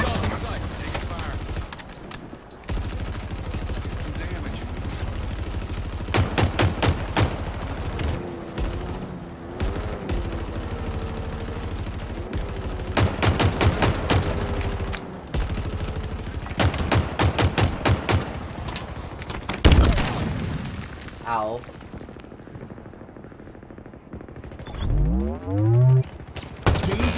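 Rapid automatic weapon fire from Halo Infinite multiplayer comes in repeated loud bursts, mixed with game effects and pauses, while in-game voice callouts play over the action.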